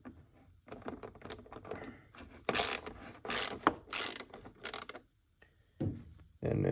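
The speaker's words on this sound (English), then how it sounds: "we're gonna go ahead and loosen up the bolts" Ratchet loosening bolts on the intake of a car with a rough idle, with several short bursts of close, loud clicking and brief pauses between them.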